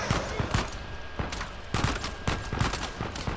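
Rapid gunfire in the video game Uncharted 4, a dense run of sharp shots and bursts throughout with no let-up.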